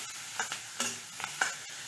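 Fenugreek leaves with salt sautéing in a pan, a faint steady sizzle broken by a few quick stirring scrapes, close up with no voices.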